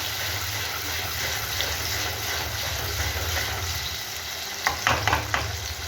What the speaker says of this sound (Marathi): तेल गरम झालं.